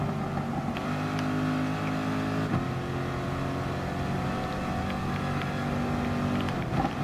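A race car accelerates in Gran Turismo Sport during a Nations Cup online race, its engine a steady droning whine that holds pitch with slight shifts, close and continuous, with no talking.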